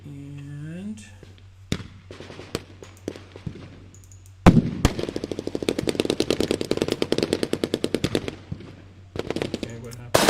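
Rapid automatic gunfire rattles in a video game, first a few isolated shots, then a long sustained burst of closely spaced reports, with a voice talking intermittently.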